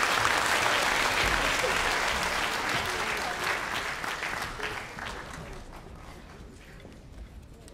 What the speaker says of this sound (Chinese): 我们现在就用掌声欢迎我们不爱国小管理员